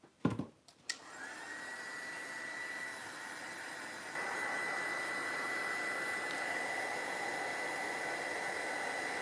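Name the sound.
heat tool quick drying paint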